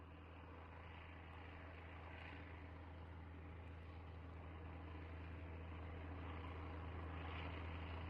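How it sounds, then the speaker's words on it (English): A propeller airplane drones overhead in the survival game SurrounDead, a steady low engine hum that swells slightly louder toward the end, with no talking. "Ooh, I hear a plane."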